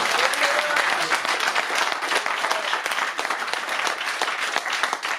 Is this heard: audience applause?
yes